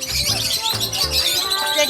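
A parrot at a baby-animal farm in Daegwallyeong chirps in short, bright bursts close by, with people's voices and background chatter around it.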